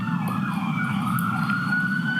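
Emergency vehicle sirens wail steadily at moderate distance, overlapping tones holding without pause, no voices.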